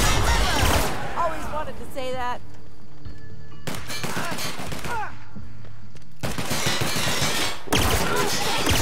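Plasma rifle shots in The Outer Worlds, a few loud bursts of rapid firing with game dialogue and effects heard between them.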